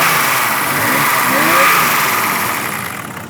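A classic car engine runs with a steady, loud rumble and a slight swell in revs before settling into an even idle.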